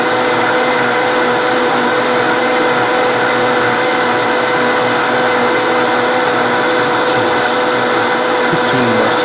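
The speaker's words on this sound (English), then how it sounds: "I'm going to let this blend for about 20 seconds on its highest speed" A Vitamix 5200 professional-grade blender with a 64 oz container runs at its highest speed, a loud constant roaring whir that holds steady throughout with no talk.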